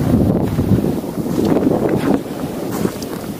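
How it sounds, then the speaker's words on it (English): Strong wind in a Montreal snowstorm: a loud, constant roar buffeting the microphone, unbroken through the whole stretch, with no voices. "because of all the wind, it like brushes all the snow"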